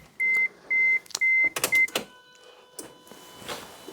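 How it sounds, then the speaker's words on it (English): A car alarm system gives four sharp electronic beeps in an even rhythm, close and loud, followed by clunks and rattling handling noises inside the car. "This alarm system, by the way, is a bit of a nuisance."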